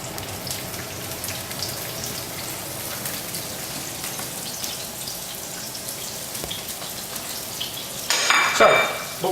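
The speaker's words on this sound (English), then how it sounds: "into that, we're going to fry some onions. It's basically one medium onion which I've just sliced." One medium sliced onion fries in hot oil for spicy Asian-style pork, a steady crackling sizzle like light rain, with a louder burst of spattering near the end.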